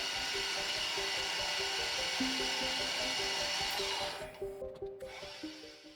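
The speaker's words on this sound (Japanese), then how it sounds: "真ん中の部分を削って切り離そうとしていますが、" Metal part for a live steam locomotive cylinder cock arm being machined, a steady whirring cut with a rhythmic repeating chatter that turns into uneven grinding bursts near the end, close, with no voices.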